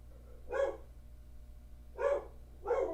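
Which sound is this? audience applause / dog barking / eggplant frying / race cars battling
dog barking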